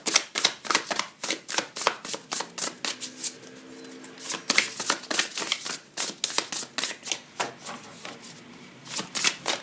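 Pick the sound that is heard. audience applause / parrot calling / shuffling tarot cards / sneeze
shuffling tarot cards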